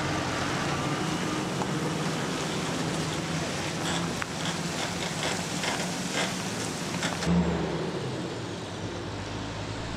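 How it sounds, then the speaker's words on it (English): A Kenworth C501 off-road double log truck idling at a weighbridge in Kaingaroa forest, a steady low diesel rumble that fills the whole stretch, with faint clanks and ambient outdoor noise. "especially when an off-road double is weighing up, such as this C501 Kenworth"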